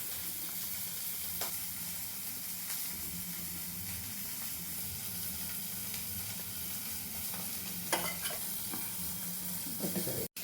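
Leftover masala sizzles in hot oil in a pan after frying gore fish. A soft, even hiss runs throughout, broken by a few light scrapes and clinks near the end, with no one speaking.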